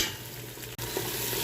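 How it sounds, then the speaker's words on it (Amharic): Onions sautéing in a pan, with a dense, continuous frying hiss and stirring scrapes, broken by a brief gap midway, no talking. "እዚህ ጋር ሽንኩርታችንን እያቁላላን ነው።"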